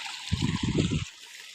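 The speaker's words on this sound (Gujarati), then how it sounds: "મોટર ચાલુ, પાણી આવી રહ્યું છે આયા" Water pumped by a motor pump pours into an onion field in a short gush of under a second, fairly close and set against quiet outdoor background.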